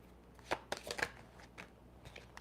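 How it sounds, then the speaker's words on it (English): Tarot cards being shuffled by hand, a few quiet riffling and tapping bursts close by, irregular and brief, with no talk. "Let's give a shuffle first."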